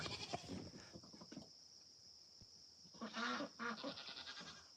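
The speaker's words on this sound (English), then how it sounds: "She's just milking the goat." A goat bleats while being milked, a wavering cry at the start and another longer bleat near the end, moderately close over a steady background hum, with no talking.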